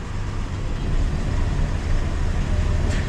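A 1965 Jeep Gladiator J-300 truck rolls backward off a lift in a garage, a steady low engine rumble and drivetrain drone that stays close and even throughout.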